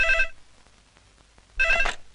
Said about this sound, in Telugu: అదిగో ఆయన ఫోన్.